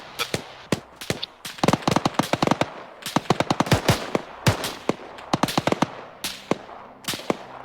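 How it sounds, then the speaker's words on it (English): Machine gun fire in the military game Arma 3, sharp loud bursts of rapid cracking shots in irregular clusters, some close and some more distant, with short gaps between volleys. "Oh, the machine gun's got him, the machine gun's got him."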